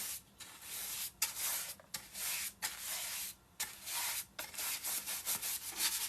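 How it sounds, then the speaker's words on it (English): Blue paint is rubbed back and forth over a surface, a close scratchy rasping in short strokes separated by brief pauses, faint and with no voices. "This, I'm just rubbing blue all over it."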